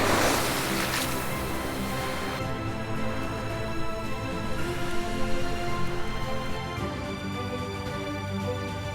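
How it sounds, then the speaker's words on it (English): Ocean waves crashing against the rugged cliffs of the Oregon coast, a loud wash of surf that breaks heavily at the start and keeps churning and rolling with no voices. "Along the rugged cliffs of the Oregon coast, where crashing waves meet misty forests"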